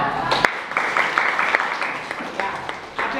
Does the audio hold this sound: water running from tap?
no